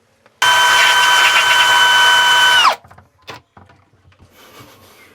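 A tap reseating tool grinds a tap valve seat in a loud, steady whirring burst of about two seconds that winds down abruptly, followed by faint clicks and handling noises.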